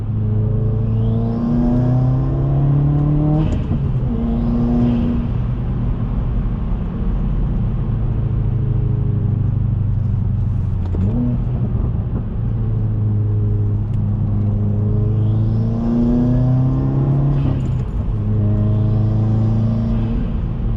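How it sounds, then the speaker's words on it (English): 2018 Subaru WRX on a Stage 1 Plus tune with a Cobb intake, heard from inside while driving, its engine droning and rising through repeated acceleration pulls with gear changes, loud and continuous with road rumble beneath. "you'll hear the intake spool up and everything too when I get on it a little bit"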